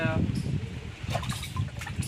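Water poured out for a buffalo, a wet splashing rush running steadily under nearby voices.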